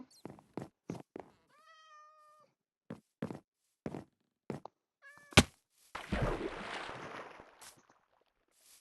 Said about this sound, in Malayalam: നമുക്ക് ഇങ്ങനെ വീട്ടിലൊരു പൂച്ചയുണ്ട്, തോമൻ എന്നാണ് പേര്.